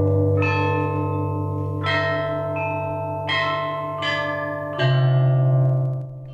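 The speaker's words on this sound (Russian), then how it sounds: "Здесь находится гигантский буддийский колокол, отлитый в 15 веке" A bronze Buddhist bell at the ancient bell museum of Dazhong Temple in Beijing is struck several times, each stroke ringing out loud and clear with a long, shimmering decay and no voices.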